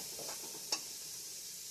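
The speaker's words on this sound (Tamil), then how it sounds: "நல்லா ஃப்ரை பண்ணுறோம்." Ivy gourd and tomato frying in a pan for a South Indian kovakkai fry: a faint, steady sizzle with a single brief clink of stirring partway through.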